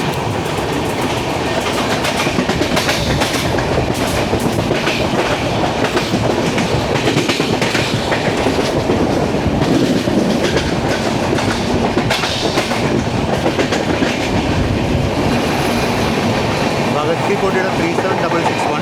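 The 12224 Duronto Express, an AC 3-tier train, runs through a station without stopping. Loud, continuous rumble and rhythmic clickety-clack of the wheels fill the whole stretch, with no voices.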